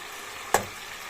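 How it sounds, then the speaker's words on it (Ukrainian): Potatoes fry in a pan to brown, giving a soft, steady sizzle with one sharp crackle partway through. "Потім додаю картошку, теж так обсмажую."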